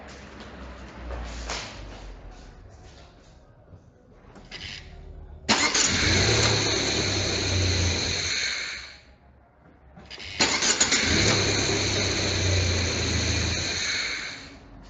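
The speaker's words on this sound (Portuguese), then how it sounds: "Eu vou dar o play aqui, vou dar partida no carro." Car engine cranked and started twice in a row, each start catching into a loud steady idle for a few seconds before cutting off, with quiet clicks and handling noise beforehand.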